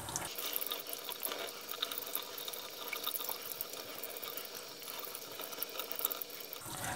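Tap water runs steadily into a sink while hands are rinsed of ProSoap hand cleaner, a continuous close hiss and splash with no speech.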